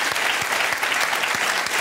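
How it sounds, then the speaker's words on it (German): A small crowd at a biathlon fest in Ruhpolding claps for fair play, a short burst of dense, even applause close by. "Fair Play, gibt es auch einen Applaus von uns."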